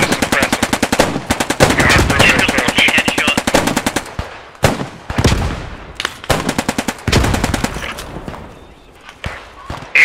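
Heavy, sustained machine-gun fire lays suppressing fire into a treeline in the WWII shooter Post Scriptum, coming in long rapid bursts with short pauses and scattered single shots, loud and close, with voices talking over parts of it.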